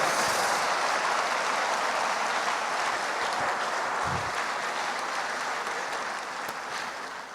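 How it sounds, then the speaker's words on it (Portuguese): A church congregation gives sustained applause, a broad, even wash of many hands clapping that holds steady and fades slightly toward the end, with no speech over it. "dê para Jesus uma bem forte salva de palmas."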